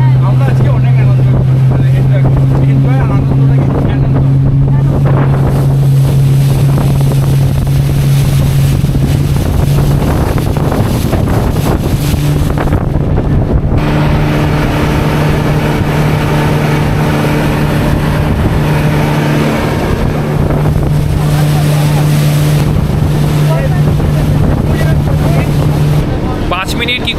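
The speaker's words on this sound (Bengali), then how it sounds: "বোট স্টার্ট হয়ে গেছে।" A motorboat engine runs steadily on Umiam Lake, a loud, constant droning hum with wind buffeting the microphone and people talking over it throughout.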